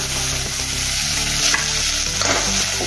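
Coarsely ground ginger and green chili paste frying in a hot pan, a loud continuous sizzle with constant stirring scrapes, close up and with no voices.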